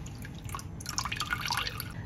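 Boiled sausages being lifted out and drained shed a close, quick patter of water drips that runs steadily for about two seconds.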